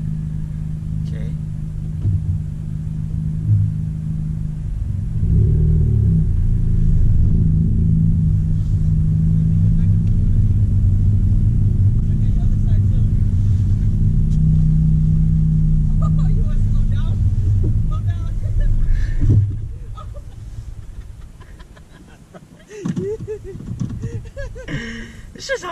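A Honda Civic Type R pulls away in first gear with a low, steady engine drone that fades near the end. People talk inside the car over the engine.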